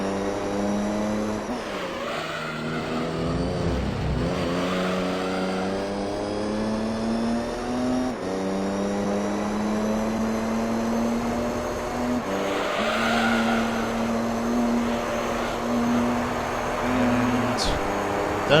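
Mercedes CLK touring race car engine in Gran Turismo 3, a steady high-revving drone with shifting pitch through gear changes, loud and continuous with brief tire squeal, alone without talk.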